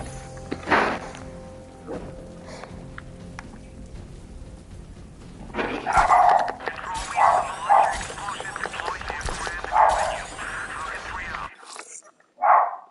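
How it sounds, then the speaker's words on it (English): A dog barks several times in short, scattered bursts while someone plays Batman: Arkham Knight, the yelps rising over game sound and background noise, with one last bark near the end. "Shush, dog!"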